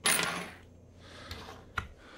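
A coin is tossed and drops onto a gas station counter, landing with a bright metallic clink and then a few smaller rattling bounces before settling, with no voices over it.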